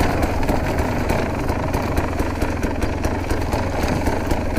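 A KTM 300 enduro motorcycle engine running close by with a fast, steady two-stroke putter, heard alone and fairly loud throughout.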